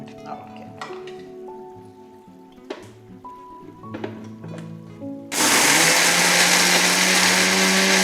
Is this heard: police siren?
no